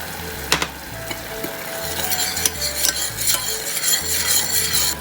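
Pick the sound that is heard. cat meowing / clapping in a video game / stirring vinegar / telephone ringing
stirring vinegar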